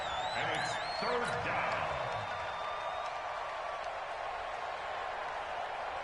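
Stadium crowd in the Madden 20 football video game swells with a steady broad roar ahead of a big third down, sustained and fairly loud throughout, with game sounds and commentary-like voices over it early on.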